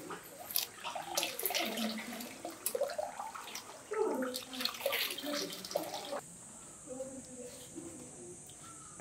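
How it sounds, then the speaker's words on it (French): A small basket holding banknotes is dipped and swished in water at a shrine in Japan, producing intermittent splashing and trickling, with voices talking faintly nearby. "vous allez le tremper dans l'eau ici"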